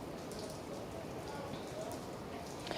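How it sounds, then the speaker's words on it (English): Rain falling steadily as a soft, even hiss with scattered drop ticks, faint and continuous throughout, during a storm that damaged a building. "hopefully the rain and everything stops"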